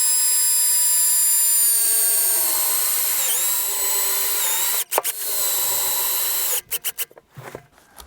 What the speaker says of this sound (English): So I got some roofing screws here. Just gonna screw it together.